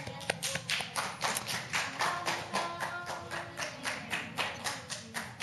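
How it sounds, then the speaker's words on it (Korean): Congregation clapping in steady unison at a New Year's Eve church service, a dense rhythmic applause of many hands held at an even, fairly loud level throughout with no talk. "하나님께 감사의 박수를 다시 한번 올리겠습니다"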